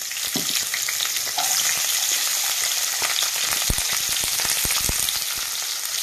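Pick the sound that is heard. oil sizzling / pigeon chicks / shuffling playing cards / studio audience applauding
oil sizzling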